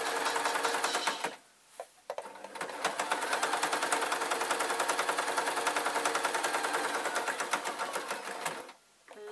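A sewing machine runs in long continuous bursts, rapid needle stitching top-stitching a waistcoat, with a couple of brief pauses near the start and end; close and steady, no talk.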